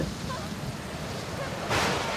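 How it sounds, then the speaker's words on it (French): Broad, steady rushing wind like a storm, blowing close and constant with a gust swelling near the end, no voices. "le vent souffle trop, c'est la tempête"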